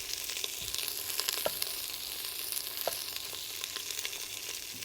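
Onion and fennel frying in olive oil in a pan while making cioppino, a steady nearby sizzle with crackling pops and occasional stirring scrapes, no voices over it.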